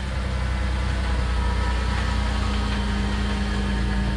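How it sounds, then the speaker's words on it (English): A Jeep TJ Wrangler engine runs at a steady idle, loud and close, with an even low rumble and vibration throughout. "I'm gonna start it up."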